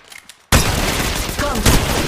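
Sustained rapid gunfire erupts suddenly in the mobile battle royale game Apex Legends Mobile, a loud dense fusillade of automatic shots with a short quiet lead-in before it.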